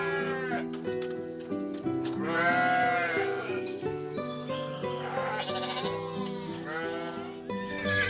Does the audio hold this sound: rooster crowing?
no